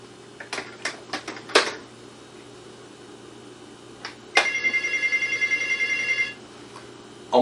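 A telephone rings with a steady, trilling electronic tone for about two seconds, preceded by a few sharp clicks and followed by another brief ring at the end.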